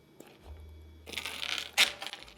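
Metal chain jingles and clinks as it is attached to a handmade designer-style purse: a brief rattle followed by one sharp bright metallic clink, close and quiet against a low hum.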